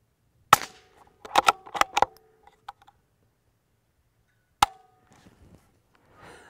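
Suppressed shots from a bolt-action .22 rifle fitted with a full titanium modular silencer: one sharp crack, then a quick cluster of three or four, a lone shot after a pause, with faint clicks and handling noise between.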